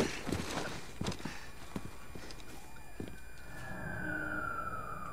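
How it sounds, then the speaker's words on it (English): Hurried footsteps and clatter give way to a police siren wailing up in pitch, steady and moderately loud in the background, in the video game Call of Duty: Modern Warfare. "Police sirens wailing."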